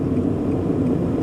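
A Honda N One kei car driving normally around town, heard as a steady, even engine and road rumble from inside the cabin, with no talking.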